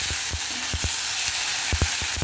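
Half of a large tomato fries in hot oil tempered with dried red chilli and bay leaf, giving a steady close sizzle broken by sharp, irregular taps of a stirring utensil against the pan.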